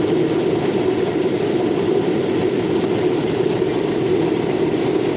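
A Norfolk Southern local freight train passes at the railroad tracks in New Castle, Pennsylvania, a steady, loud low rumble and rolling clatter that holds constant throughout.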